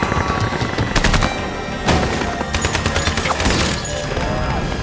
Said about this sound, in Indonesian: Terjadi baku tembak antara pemberontak dan pengawal pribadi kedutaan.